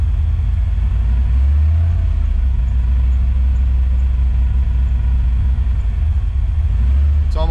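An EFI engine is held near 1500 rpm by foot on the throttle, a loud steady low rumble with slight wavering in pitch, heard close from inside the vehicle throughout.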